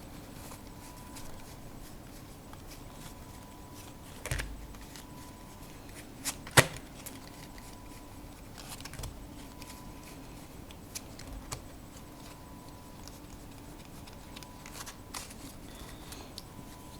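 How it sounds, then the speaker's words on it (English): Playing cards from an Anglo deck being handled and thumbed through, giving soft close-up snaps and flicks at irregular intervals over a quiet background. "Now, if we look through the deck, I'll pull out a couple of cards."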